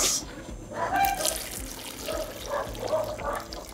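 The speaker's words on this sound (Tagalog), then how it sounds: "lagyan po muna natin ng tubig." Tap water runs and is poured into a cooking pot while preparing ginataang langka (jackfruit in coconut milk) at home, a steady splashing gush, close and moderately loud, no talk.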